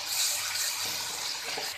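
Water streams steadily into a pan of macaroni pasta cooking in a home kitchen, a continuous hissing pour heard close and alone with no voices.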